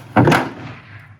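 A wrecked Ford Mustang S550's door scrapes against its damaged fender outdoors: one loud, grinding thunk that rings on briefly and fades into a lingering echo.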